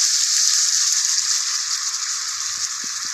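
Whole cumin, chilli and other whole spices sizzle in hot oil in a pan for a catla fish curry with ridge gourd and potato, giving a steady, close, bright frying hiss throughout.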